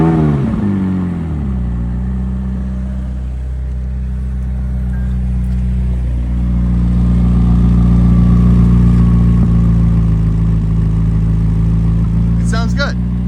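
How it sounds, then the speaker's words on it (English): A McLaren 600LT supercar, a 600-horsepower lightweight machine, fires up and settles into a loud, deep idle with a couple of swelling revs, heard close by and dominating throughout. "Let's start up the 600 so we can hear it."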